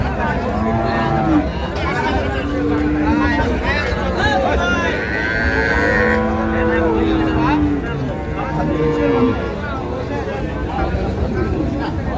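Cows moo at a busy cattle market in Ambari, Dinajpur, where dairy cows are sold with their calves. Several drawn-out lowing calls rise over continuous nearby chatter from the crowd.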